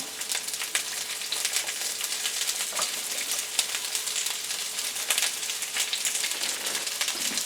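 Chunks of onion frying in a pot for mushroom soup, a steady, bright sizzle with crackling pops that continues without pause, alone with no voices.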